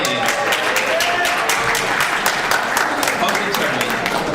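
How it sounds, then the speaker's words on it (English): Audience applause fills a convention-stage panel at C2E2, a steady dense wash of clapping throughout with faint talk underneath. "But from the round of applause, yes."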